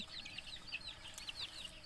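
Chickens clucking in a coop among ducks at feeding time, a run of quick, fairly faint clucks and calls overlapping in a steady chatter with low rustling beneath.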